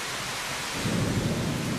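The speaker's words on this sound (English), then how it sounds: "The storm unleashed the full force of its power, with driving rain and great peals of thunder." A thunderstorm with steady driving rain and a deep rolling peal of thunder swelling up midway, loud and close, with no voices.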